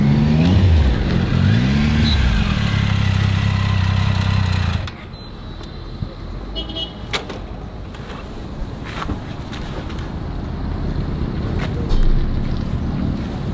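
Motorcycle engine and exhaust rumble after an emergency stop on the road, loud steady low drone with heavy wind buffeting for about five seconds, then dropping to a quieter idle-like hum with scattered clicks and knocks.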